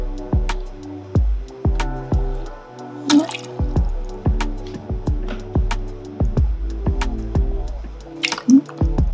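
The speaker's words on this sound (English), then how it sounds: "So right now we're gonna go ahead and add the pear nectar." Pear nectar being poured into a roasted pear and ginger martini mix: a series of close, distinct splashy drips and glugs in an irregular rhythm, loud and alone without talk.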